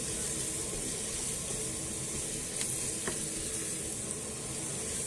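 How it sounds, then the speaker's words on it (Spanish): Paprika sizzles steadily in hot oil in a pan while being stirred quickly for a stewed turtle-dove dish, a dense continuous frying hiss with faint scraping, close and alone. "Movemos el pimentón rápidamente y le incorporamos el tomate."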